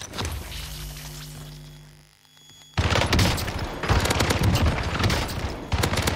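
Rapid automatic gunfire from a MARCO 5 submachine gun in Call of Duty on Rebirth Island, loud dense bursts that start after a quieter lull and continue nearly unbroken to the end.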